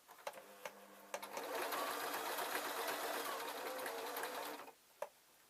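A sewing machine stitches a small earphone case with its lining, starting with a few short stitch bursts, then running steadily for about three seconds before stopping, followed by a single click.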